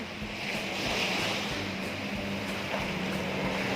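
Sea waves washing ashore at Cha-am beach in Thailand: a constant broadband roar of surf mixed with wind rushing across the microphone, steady and fairly loud with no talk.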